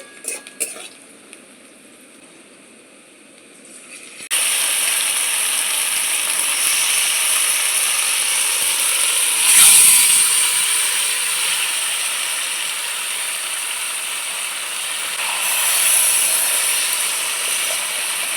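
Marinated chicken drops into a pan of lightly browned fried onions, then a loud steady sizzle of frying follows, with a metal spoon scraping and stirring partway through.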